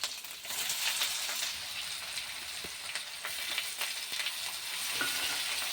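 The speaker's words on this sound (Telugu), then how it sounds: "ఆనియన్ కూడా మంచిగా ఫ్రై అవ్వాలి" Thinly sliced onions fry in hot oil in a pan, making a steady bright sizzle with soft crackles and an occasional stir, close and continuous, with no talking.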